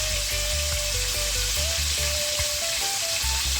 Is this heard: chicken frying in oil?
yes